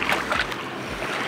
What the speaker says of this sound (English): There's a bunch of ferries that go past and their waves just almost made me fall.